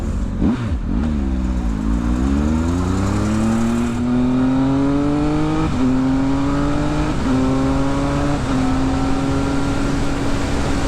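Triumph Speed Triple RS 2020 motorcycle accelerating hard through the gears with a quick shifter, engine pitch climbing then dropping sharply at each rapid upshift, several shifts in sequence, loud and close with wind rush.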